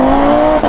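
An 800 hp stage 5 big-turbo Audi TT RS accelerating hard in second gear, a loud, sustained, strained engine note held for under a second before a brief dip.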